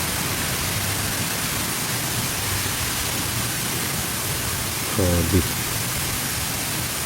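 Storm with heavy rain and strong wind produces a dense, steady rushing hiss close by throughout, briefly broken by a short spoken exclamation.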